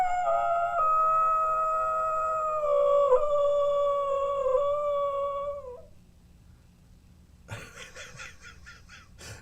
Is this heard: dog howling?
yes